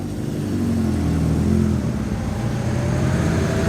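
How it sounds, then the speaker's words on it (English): A Ford 100E Anglia classic car, probably fitted with a non-original engine, idles with a fruity, purposeful burble at a steady pace, recorded outdoors at a classic car show amid crowd ambience. "A very fruity sounding 100E Anglia."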